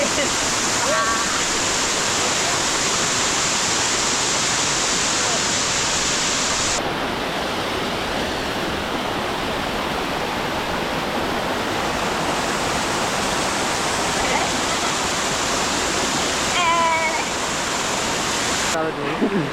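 A waterfall at Madassery roars in a steady, loud, broadband rush of falling water that stays continuous throughout, with no talk over it.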